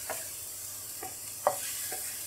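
Chicken with capsicum and brown sugar stirred and mixed in a pan over a medium flame, a steady soft sizzle with four distinct scraping strokes spaced about half a second apart.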